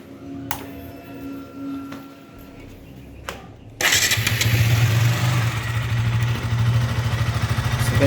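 A KTM motorcycle engine is cranked over and fires up, then settles into a steady, loud, close idle, with a few clicks and faint handling sounds before the start.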